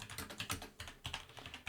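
Rapid typing on a computer keyboard while a simple black button is being set up in design software, with a quick, irregular run of close, crisp key clicks and no talking.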